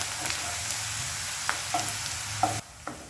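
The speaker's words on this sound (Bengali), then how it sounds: "গ্যাসটাকে এবার হাই ফ্লেমে রেখে পেঁয়াজটা 4 থেকে 5 মিনিট ভেজে নেব।" Finely chopped onions fry in hot oil over a high flame, giving a steady, dense hiss with a few light stirring clicks, before the sizzle drops away sharply near the end.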